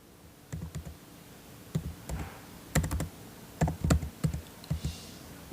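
Computer keyboard keys are pressed while entries are made in Tally Prime accounting software, giving scattered close clicks in short irregular bursts with brief pauses between them and no talking.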